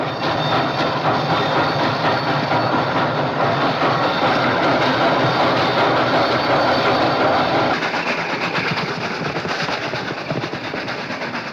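A steam train engine runs on rails, giving a steady loud roar with a rhythmic clatter of wheels. The sound is continuous throughout and eases slightly near the end, with no speech.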